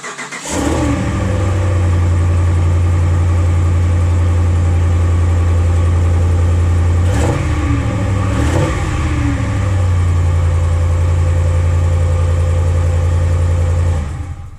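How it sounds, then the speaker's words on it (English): A RAM 1500 pickup starts cold, then settles into a loud, steady deep idle, broken by two quick throttle blips near the end before returning to the rumble. "I'm gonna go ahead and start the truck up, show you all the cold start first"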